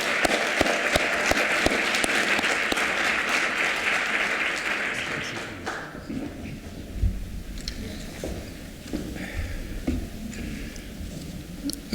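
Audience applause at a health-access report presentation, a full room clapping steadily for about six seconds before it thins into scattered claps and room noise.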